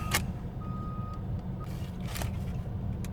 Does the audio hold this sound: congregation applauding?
no